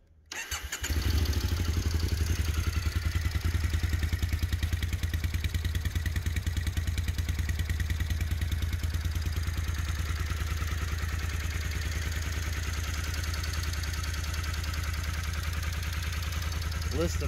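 A 2006 Triumph Scrambler motorcycle engine starts after a brief quiet moment, then settles into a steady, loud, close-up running idle with a throbbing low rumble that holds alone to the end.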